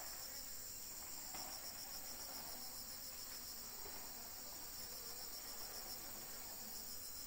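Honey bees feed at a hive after honey harvest, a faint steady insect hum and buzz that continues without a break, with a high continuous whine over it.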